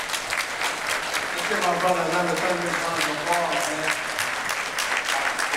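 Audience at a men's breakfast meeting applauding loudly and steadily while someone speaks over the clapping and a tonal sound rises and falls beneath it.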